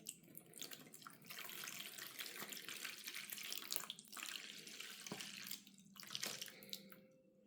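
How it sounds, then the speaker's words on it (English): Water poured into a small science-project mangrove flood model with roots, canopy and beach houses, a steady splashing, trickling stream running for several seconds at moderate level with a few brief gaps. "I will now pour some water in here"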